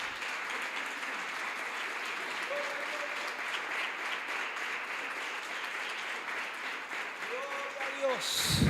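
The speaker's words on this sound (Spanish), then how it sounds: "Denle un fuerte aplauso al Señor." A church congregation claps loudly and steadily together, a sustained wash of applause that carries on throughout, with a few faint voices rising near the end.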